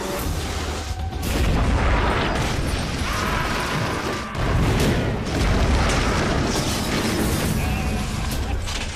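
Loud, rumbling booms and heavy low crashes from siege cannons firing stone balls at Constantinople, sustained and dense with a brief dip midway, like a continuous bombardment with mechanical clatter.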